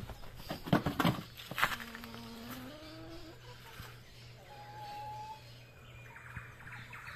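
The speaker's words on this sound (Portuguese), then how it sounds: "Olha que cantar de pássaro, maravilhoso" Birds sing at dawn beside the Miranda River, a few clear whistled calls and chirps at moderate distance over faint rustling and quiet background ambience.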